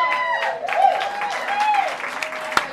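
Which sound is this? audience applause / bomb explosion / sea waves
audience applause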